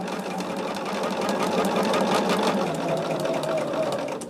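A steady, close sewing machine runs continuously for several seconds, joining quilt blocks for a disappearing four-patch quilt top, with no talking over it.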